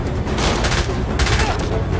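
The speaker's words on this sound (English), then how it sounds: "He's firing at us!" Bursts of rapid gunfire from James Bond 007: Blood Stone in a Siberia mission, two loud volleys crackling over a constant engine-like rumble.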